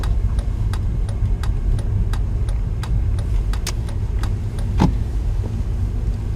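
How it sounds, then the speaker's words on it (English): A manual transmission car rolls slowly downhill with low steady road and engine rumble inside the cabin, broken by a regular ticking like an indicator and one brief knock near the end, with no talk. "I know I'm on a bit of a downhill, so I'm going to let the car roll."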